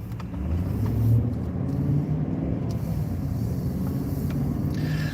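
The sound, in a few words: car driving past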